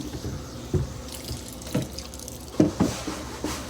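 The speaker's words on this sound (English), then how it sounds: "let me wash my cutting board off" A cutting board is washed under a running kitchen tap. Soft, steady water flow is broken by intermittent splashes and drips as the board moves under the stream, heard close and fairly quiet.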